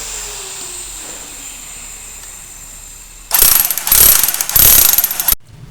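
After a few quiet seconds, a power drill starts up loud and close, whirring in three bursts with brief pauses between them, then cuts off, while installing wooden planks.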